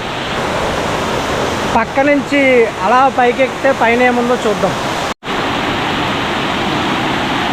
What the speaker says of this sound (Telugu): ఇది మన వాటర్ ఫాల్ కదా